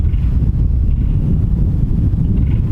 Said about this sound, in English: It's a little windy, a little chilly,